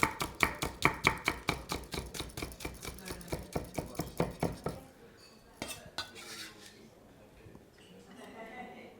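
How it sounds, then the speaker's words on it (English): A knife finely slices red pepper on a board in a quick, even series of sharp chops, close and crisp, then stops, followed by a few scattered clinks. "A little bit of red pepper. Again, finely sliced."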